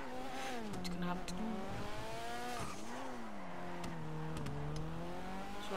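A rally car engine in GTA 5 revs and drops repeatedly, its pitch climbing and falling through several gear-like sweeps, with an occasional tire squeal; the engine stays close and fairly loud throughout.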